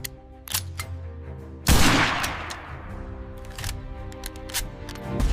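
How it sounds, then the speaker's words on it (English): A single-shot Martini-Henry falling-block rifle fires once, a loud sharp report with a decaying tail that cuts in over steady background music. "The Martini Henry. A single-shot, falling block action rifle."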